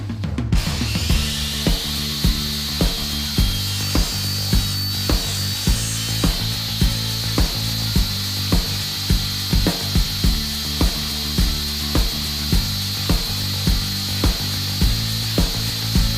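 A stained blue holly wood pen blank is trimmed on a lathe, making a continuous close whirring drone with a regular, evenly spaced ticking beat throughout and no talk.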